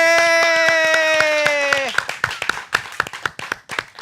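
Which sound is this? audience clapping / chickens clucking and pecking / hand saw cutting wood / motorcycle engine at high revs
audience clapping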